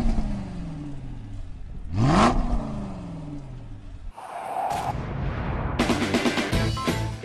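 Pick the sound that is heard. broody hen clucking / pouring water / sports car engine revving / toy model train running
sports car engine revving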